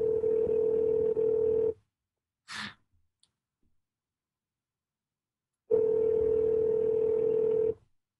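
Google Voice phone call tones: a loud steady ringback tone plays, stops, then after a short breath and a quiet gap the same tone returns for a second long burst, alone.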